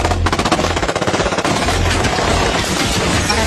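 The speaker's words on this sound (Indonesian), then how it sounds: "Tentara bayaran yang terlatih menembak rumah itu sejak membabi buta" Loud, sustained machine gun fire pours from trained mercenaries shooting blindly into a house, a dense unbroken rattle of rapid shots filling the whole stretch with no voices.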